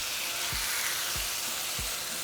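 Carne asada meat sizzling on a hot comal griddle, a constant, close frying hiss with three soft low thumps spaced evenly through it.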